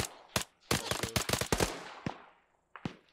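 Gunfire in the military video game ArmA 3, a quick volley of sharp cracking shots with echoing tails, then a few isolated shots after short gaps, fairly loud and close.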